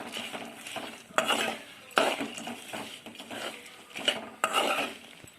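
A spoon scrapes and stirs roasted gram into hot oil in a metal pan, with repeated close strokes and clinks against the pan over a faint sizzle, and no voices.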